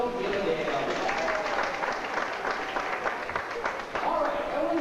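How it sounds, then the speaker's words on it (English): Aboard a cruise ship on a Panama Canal trip, passengers applaud a passing vessel; a steady, somewhat muffled patter of clapping runs throughout, mixed with crowd noise and faint voices. "Let's give a big round of applause for the I Don't Give a Damn."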